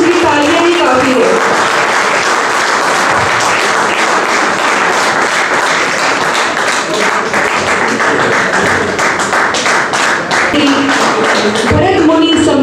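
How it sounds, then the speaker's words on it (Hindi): An audience at a theatre festival in Ambala applauds loudly and continuously, a dense close wash of hand claps with a few voices rising through it. "आपकी तालियों की गूंज इतनी जोर से होनी चाहिए"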